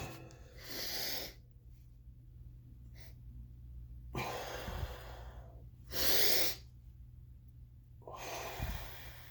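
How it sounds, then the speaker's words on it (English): Deep breaths drawn in through the nose during a breathing exercise, with several long, rushing inhales separated by quiet pauses, close and fairly loud, with no talking over them. "Breathe in deeply through your nose."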